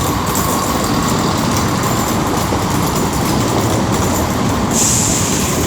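A Class 170 diesel multiple unit, 170 514 leading and 170 510 at the rear, arrives at Wolverhampton on the West Coast Main Line with a loud, close, continuous rumble of wheels and engine and a brief high squeal near the end.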